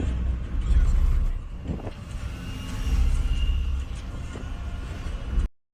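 A learner's car during a driving lesson in Pune gives a steady low engine rumble and road noise from inside the cabin, swelling and easing slightly as it moves, with faint muffled voices underneath.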